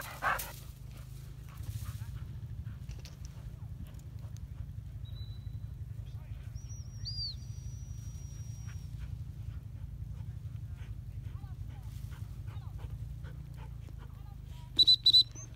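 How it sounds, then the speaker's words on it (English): A gun dog working a pheasant and partridge shoot gives short dog sounds over a steady low outdoor rumble, with brief voices nearby and a sharp burst of clicks near the end. "Good dog."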